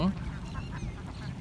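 A large flock of more than 3,000 ducks forages in a rice field, a dense chorus of overlapping quacks under steady background noise, with a voice talking over it.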